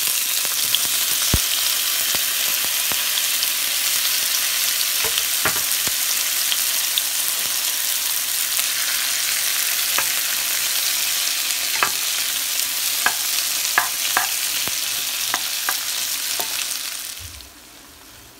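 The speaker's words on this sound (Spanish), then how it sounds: "Vamos a poner a freír la cebolla y el jitomate." Chopped onion and tomato fry in hot oil in a pot, a dense steady sizzle with scattered pops and spoon clicks, close and alone, fading out at the end.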